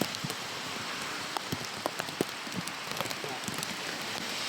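Steady outdoor rain hisses evenly, with scattered louder drops tapping nearby surfaces throughout.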